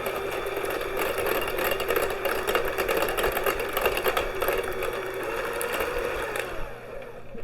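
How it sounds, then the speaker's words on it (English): An electric hand mixer beats two eggs in a bowl, its small motor giving a steady, close buzzing whir that runs for several seconds, then tapers off at the end. "I'm going to take my electric hand mixer and beat our eggs."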